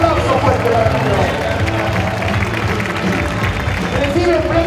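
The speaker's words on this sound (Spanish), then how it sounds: "Un aplauso fuerte para el" An audience applauds and cheers after a boxing bout at the Copa Asturbox, a steady wash of clapping and crowd noise throughout, with an announcer's amplified voice over it.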